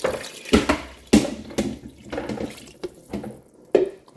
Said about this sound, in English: you're going to add in all of your water